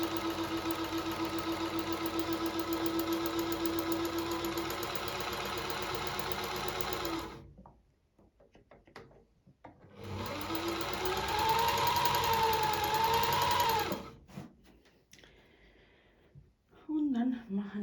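A Necchi sewing machine with a fault that leaves it stitching in place runs steadily and loudly for several seconds, stops, then runs again with a rising whine. Voices talk briefly in the pauses.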